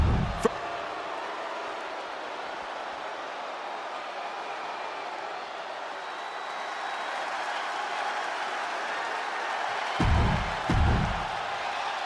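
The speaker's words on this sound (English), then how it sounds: "The crowd is on their feet." Arena crowd noise during a women's division match in WWE 2K25, a sustained distant roar of cheering that swells slightly near the end, with a couple of low thumps and faint commentary voices.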